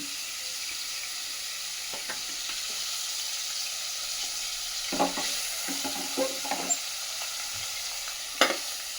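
Dried red chillies fry in oil beside onions pushed to one side of the pan for an aloo beans curry, a steady hiss of sizzling with a few stirring clicks and pops, no voices.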